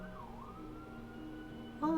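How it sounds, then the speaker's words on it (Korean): A siren wails outside, faint and distant, in a steady rising-and-falling tone, with a louder short noise right at the end. "지금 무슨 사이렌이 울렸네요"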